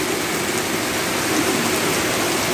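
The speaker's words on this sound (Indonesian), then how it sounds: "Kita lagi berteduh nih guys karena hujan." Steady heavy rain falls outdoors while people shelter under cover, a dense, even hiss that stays loud throughout with no talking.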